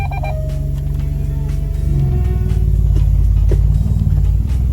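Alfa Romeo Giulia Quadrifoglio engine running at a close, low idle with a deep rumbling drone that swells slightly partway through, with a faint tone fading early on.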